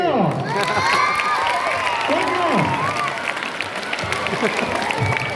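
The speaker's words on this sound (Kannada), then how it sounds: "ಚಪ್ಪಾಳೆ." Classroom of students clapping in a sustained, fairly loud burst of mixed applause, with children's voices and chatter rising through it.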